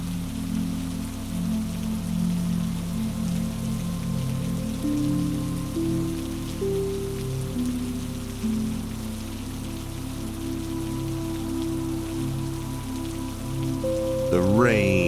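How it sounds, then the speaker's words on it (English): Rain falling on Paris cobblestones at night, a soft steady patter with a low sustained hum underneath, continuous and unbroken until a brief brighter sound at the very end. "the rain is falling"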